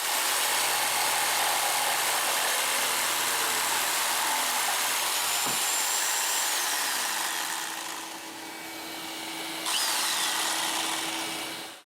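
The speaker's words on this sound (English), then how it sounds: "After the glue has hardened, I can now connect the vacuum cleaner and start cutting wood." A jigsaw cutting wood with a vacuum cleaner hooked to it gives a loud, steady, hissing roar that runs almost unbroken, with a brief dip and surge near the end.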